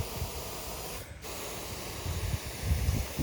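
Hose spray watering freshly sown grass seed and fertilizer at a new construction home, a steady outdoor hiss running the whole time, with a brief dip midway and slightly louder gusty spraying toward the end.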